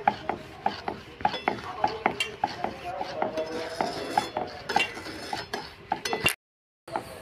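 A spoon stirs sugar syrup with lemon juice in a pan, making steady rhythmic scraping strokes about three times a second, moderately close, before a brief cut to silence.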